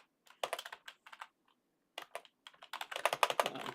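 Rapid keystrokes clatter on a computer keyboard while writing C# script code in Visual Studio, arriving in short irregular bursts with gaps, then a denser, louder run of clicks at the end; close and clear, no talking.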